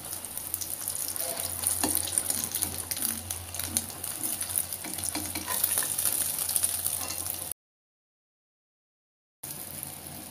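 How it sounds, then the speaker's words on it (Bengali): Eggs frying in oil left over from frying eggplant crackle and sizzle steadily at close range with occasional utensil scrapes, broken by a short stretch of silence near the end. "এভাবে আমি সবগুলা ডিম ভাজা লম"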